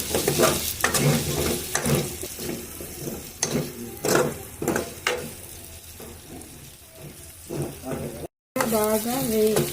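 Potato curry frying in a pan with turmeric, sizzling steadily while a spoon scrapes and stirs in repeated strokes, close and fairly loud, with a brief gap near the end.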